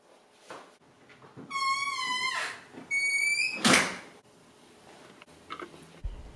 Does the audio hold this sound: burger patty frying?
no